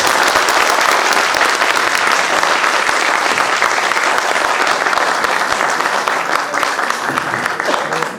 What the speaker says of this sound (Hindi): अगर बढ़िया नाटक लगाओ तो एक बार जोर से तालियां बजाओ।